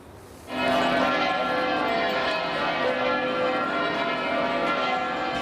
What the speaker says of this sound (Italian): Il rintocco delle campane ha accolto l'arrivo dei partecipanti alla 10ª edizione della marcia